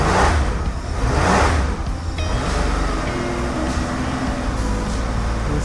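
A repaired 1977 Porsche 911S Targa engine runs close by, revving up twice at the start and then settling into a steady, even idle.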